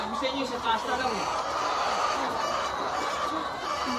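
Many laying hens in production cluck and chatter together in a busy, continuous flock sound, with a voice speaking over them.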